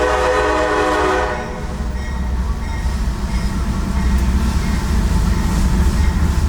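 A work train hauled by two biodiesel-burning CM44 locomotives crosses a road: a loud, close horn blast opens, then fades into the steady heavy rumble and clatter of wagons rolling past.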